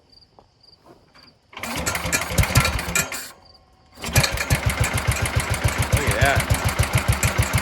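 A 1967 Sears Super 12 garden tractor engine cranks on its starter, falters briefly, then catches and settles into a loud, rhythmic idle with a steady chugging beat; a voice speaks briefly before it starts.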